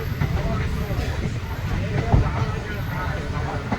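Katwa–Nimtita passenger train rolling along its rails: a steady low rumble and rattle of the carriages throughout, heard from on board with a faint clank partway through and a voice in the background.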